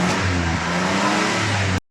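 A faulty Toyota Corolla 1.5 engine that blows white smoke revs steadily and loudly, a rough mechanical drone with a low hum throughout, cutting off abruptly at the end.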